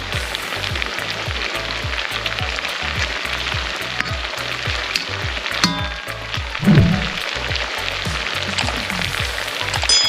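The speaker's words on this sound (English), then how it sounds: "Fry it a little bit for a few seconds." Garlic frying in a pan for stir-fried chicken wings, a loud, busy sizzle with dense crackling pops continuing for the whole stretch and a brief louder spatter near the end.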